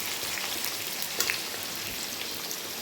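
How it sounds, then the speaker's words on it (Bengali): Potatoes fry in hot oil with cumin seeds and dried chilli, giving a steady, dense sizzle and crackle like rain throughout, close and even, with no talking. "এবার আলুগুলো দিয়ে ভেজে নেব।"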